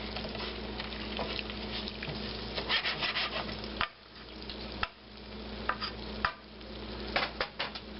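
Half a cup of rice stirred into hot oil in a pan over a campfire-style cowboy cook setup, a steady scraping, rubbing sizzle with a few sharp knocks of the spoon against the pan, close and alone.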